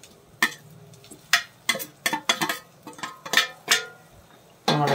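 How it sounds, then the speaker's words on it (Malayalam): Sliced onions being stirred in a pan for Kerala-style duck mappas, a run of irregular scraping and clattering strokes of a spoon against the pan, close and fairly loud, with a faint sizzle beneath. "നമുക്ക് നല്ലോണം ഇളക്കി കൊടുക്കാം"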